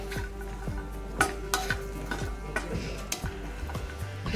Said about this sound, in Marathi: तर आपल्याला हे खोबरं पण मस्त असं भाजून घ्यायचं